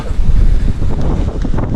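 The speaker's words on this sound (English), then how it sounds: "Oh, it's quite windy here" Strong wind buffets the microphone on an exposed coastal headland near Runswick Bay, a steady low roaring rush with gusty swells throughout and no voices.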